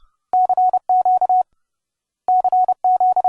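Morse code keyed with paddles plays as a clean sidetone: two short runs of crisp beeping dits and dahs, separated by a brief silence, loud and close.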